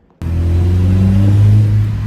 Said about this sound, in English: the exhaust is now mounted, as we showed you, and it sounds so good